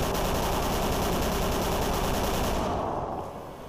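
A lightning gun fires continuously at deep ones in the video game Call of Cthulhu: Dark Corners of the Earth, a loud, dense crackling roar that holds steady, then fades at the end.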